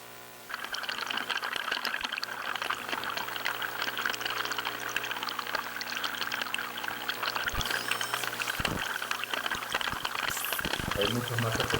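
Water recorded at an archaeological site flows and bubbles continuously in a dense, crackling, close-up rush over a faint low hum, with a few sharper splashes toward the end.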